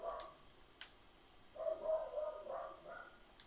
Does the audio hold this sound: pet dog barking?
yes